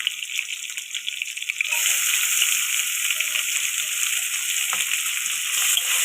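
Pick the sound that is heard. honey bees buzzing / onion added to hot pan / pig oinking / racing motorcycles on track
onion added to hot pan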